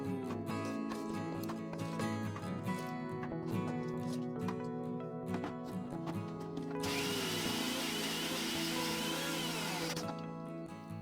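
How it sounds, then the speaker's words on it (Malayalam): A mixer grinder blends sautéed onion, cashew and tomato, whirring steadily up close, its motor droning, then turns harsher and louder with a grinding rush for a few seconds near the end. "എല്ലാം മിക്സിയിൽ നന്നായി അരച്ചെടുക്കാം"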